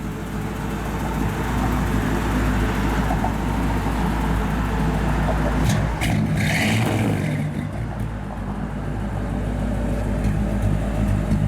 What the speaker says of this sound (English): Got a nice Flowmaster dual exhaust on it.